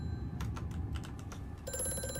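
A telephone rings in the game Amnesia: A Machine for Pigs, its repeated bursts heard over a dense low rumble, with a sustained electronic tone entering near the end.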